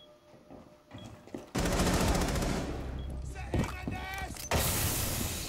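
Loud shotgun blasts in a video game, a sharp boom erupting after mechanical clicking and rattling, then a second blast near the end amid dense game noise.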